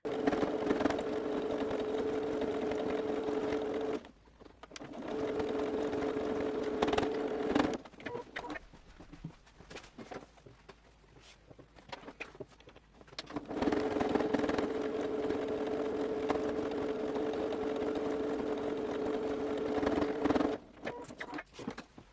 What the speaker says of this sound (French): on a donc cousu sur l'endroit les deux coulisses